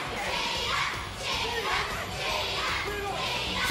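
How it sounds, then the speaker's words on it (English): An unhappy wrestling crowd shouts and jeers in a continuous, muffled roar, with voices rising and falling in waves over a few seconds. "and the crowd are not happy"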